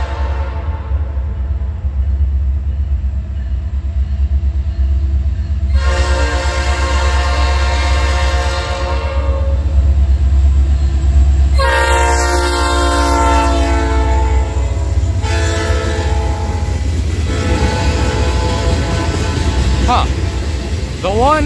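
A Norfolk Southern 12G freight led by a new C6M locomotive with a P5 horn passes through Creighton, Pennsylvania, blowing repeated loud horn blasts over a steady low rumble of rolling stock, with a voice speaking briefly nearby.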